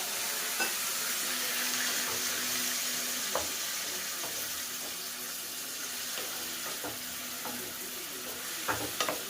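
Steady sizzling of chicken pepper fry in a pan with clinks of stirring and a running, pouring water sound as water is added throughout, close and fairly loud.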